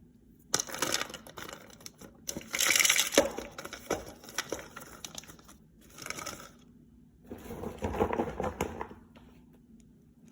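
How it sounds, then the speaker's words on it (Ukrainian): Coarse pieces of bark are poured into a plant pot during repotting, making dry rustling, crunching bursts that come in several short spells, close and fairly quiet. "Присаджуємо і починаємо засипати ось такою крупненькою корою."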